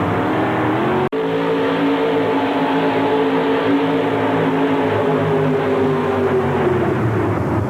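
A 1960 Chevrolet truck roars at a truck pull. The engine holds a loud, sustained strain with a brief break near the start, then pulls steadily on with the pitch rising slowly.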